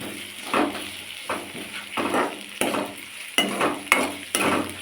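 Green chillies and onion sautéing in hot oil with mustard seeds, stirred in a pan: a continuous sizzle broken by rhythmic scraping stir strokes about every second, close and steady.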